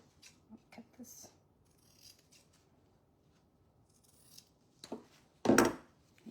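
Scissors snip several times, quietly and close, while making a crafted club bag, with a louder, longer cut near the end.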